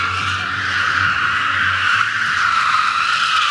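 Two BYD G7 series electric cars drifting on a test track, a continuous loud tire screech with broad hiss sustained throughout, no engine roar beneath.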